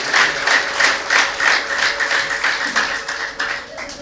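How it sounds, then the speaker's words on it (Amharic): A church congregation claps for the Lord in a steady, rhythmic unison beat. The claps run at a quick, even pace and are moderately loud, with no talk over them. "እስኪ ለጌታ ክብር እስኪ አጨብጭቡ በእውነት።"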